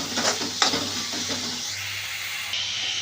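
Chopped tomatoes sautéed in a hot pan for spinach bhaji give a loud sizzle with a few scraping stirs early on, then the frying settles into a quieter steady hiss.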